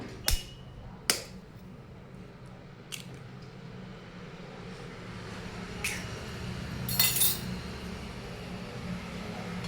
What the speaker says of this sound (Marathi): आपण या ठिकाणी एक कच्चा अंड फोडून घेऊया.